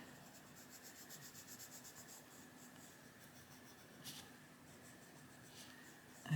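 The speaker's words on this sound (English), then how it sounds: "I'm putting a lot of pressure on the paper." Pencil or pen pressed hard across paper in a small book, giving a steady faint scratchy rubbing stroke that continues throughout with a couple of brief sharper scrapes.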